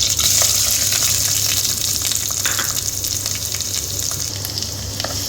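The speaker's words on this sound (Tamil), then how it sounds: "இதை நல்லா ஃப்ரை பண்ணிக்கலாம்." Urad dal, curry leaves and finely chopped onion fry in a pan, a loud, steady hiss and crackle held close and unbroken throughout, with occasional sharper pops.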